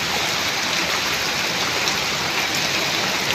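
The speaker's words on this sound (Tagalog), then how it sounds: "Grabe namang baha." Typhoon floodwater pours down a street in Valenzuela City, a loud, unbroken rushing wash of water close by, dense and steady like heavy rain or a stream, with no voices over it.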